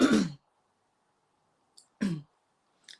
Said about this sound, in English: stop talking and cough and clear my throat